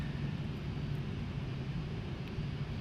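ERJ-135/145 regional jet engines in a flight simulator game hum as a steady, moderate drone with a low tonal whine, continuous and even from start to finish.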